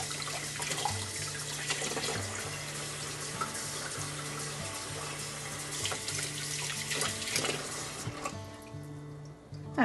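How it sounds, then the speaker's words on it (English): Water runs steadily from a tap while soil is rinsed off bonsai roots, a continuous splashing hiss with small shifts as the roots move under the stream, and no speech. "Wash all the roots off."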